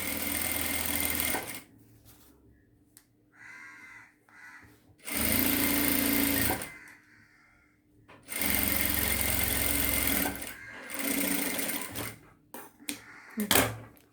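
A sewing machine stitches the lining of a work blouse in several close bursts of rapid mechanical whirring, separated by quiet pauses with faint handling noise.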